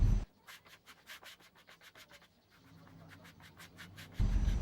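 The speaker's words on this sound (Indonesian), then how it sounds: "Di amplas bertahap menggunakan amplas 80 kemudian amplas 150" Rhythmic rasping strokes of 80-grit then 150-grit sandpaper rubbing on multiplex plywood coated with wood filler, a quick steady back-and-forth scratching repeated many times, close up and fairly quiet.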